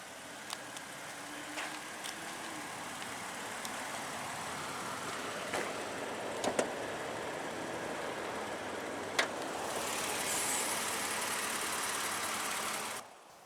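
A 2007 Toyota Avalon Limited with a naturally aspirated 3.5-liter DOHC 24-valve V6 is heard faintly, with scattered ticks and clicks over a low hum, then a short, louder rush of engine noise before it cuts off abruptly.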